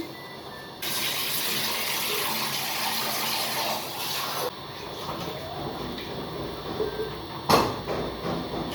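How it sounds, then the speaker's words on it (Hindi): Water pouring into a pressure cooker holding mutton, a steady hissing splash that starts abruptly, runs for several seconds, then stops and gives way to softer kitchen noise and a brief clatter. "इसमें हम ऐड करेंगे पानी।"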